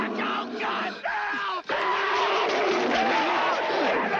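An actor screams and yells frantically in a werewolf attack scene from a 1981 horror film, with loud, strained cries that rise and break over a dense, noisy backdrop.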